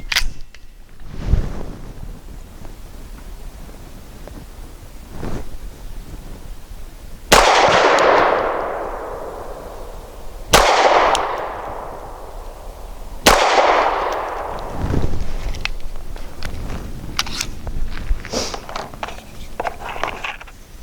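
An Archon Type B pistol fires Barnaul 115 grain steel case rounds at an outdoor range: several sharp, loud, widely spaced single shots, each with a long trailing echo, plus a few fainter pops between them.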